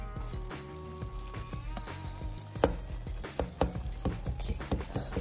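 A knife chops meat for cretons on a cutting board, delivering a brisk, irregular run of close, solid thuds and taps, with a low hum underneath and no talking.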